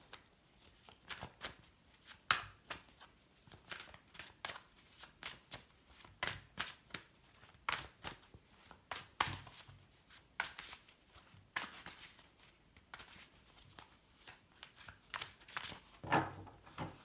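Tarot cards are shuffled by hand in repeated crisp riffles and soft slaps with brief pauses between rounds. The sound is close and quiet, with no voices.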